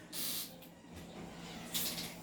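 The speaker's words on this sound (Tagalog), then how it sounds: "I-sprayan natin, lalagyan natin ng oil sa output valve." Silicone oil sprayed into the gas valve of an airsoft pistol, heard as two short, close hissing bursts, the first lasting about half a second and the second briefer.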